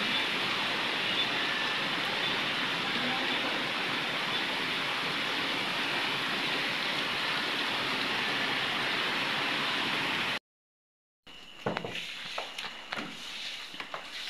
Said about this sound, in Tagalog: sobrang lakas po ng ulan.